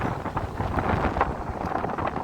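Strong gusty wind buffeting the microphone on the stormy Odesa seashore in winter, a loud continuous roar with fluctuating rumble and no speech.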